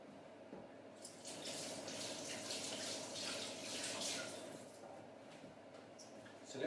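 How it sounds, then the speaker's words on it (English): Tap water runs into a kitchen sink as hands are washed beneath it, a soft, continuous hiss with faint splashing that stays quiet and steady throughout. "I'm just going to wash my hands."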